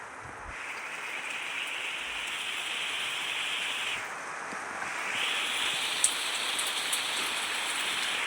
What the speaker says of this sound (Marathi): बाहेर पाऊस ना परत स्टार्टिंग केली आहे पावसाने, म्हणजे पाऊस परत चालू झालेला आहे आमच्या इकडे